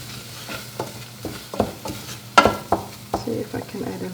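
Flour and butter stirred in a pot, a series of close, rhythmic scraping strokes over a low sizzle, with one louder clatter partway through.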